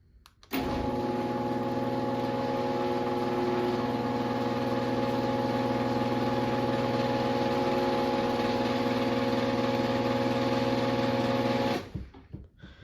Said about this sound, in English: for being a screw drive and being, you know, over 20 years old, this thing really isn't that loud